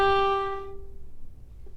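A bowed string instrument plays a short phrase of Scarborough Fair, one sustained note with bright harmonics fading out after about a second, grace notes rolling into it, heard alone and close with no talking.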